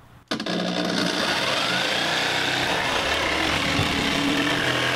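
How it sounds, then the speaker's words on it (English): A jigsaw cuts through material for a DIY embroidery frame for a multi-needle machine, starting abruptly after a brief quiet moment and then running as a loud, steady buzzing whine for several seconds, close up, with no talking. "So I'm gonna keep using the jigsaw."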